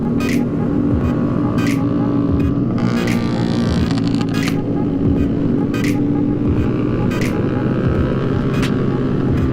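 Motorcycle engines drone and rev loudly nearby on a Sunday morning group ride, with several sharp throttle bursts rising over a constant engine roar and traffic hum.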